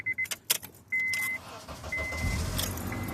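A 2004 Honda Accord, recently repaired after a no-crank no-start fault, idles steadily after starting, a low engine rumble close by with brief key-jangle clicks and short chime-like tones early on.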